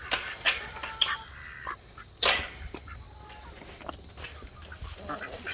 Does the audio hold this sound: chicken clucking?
yes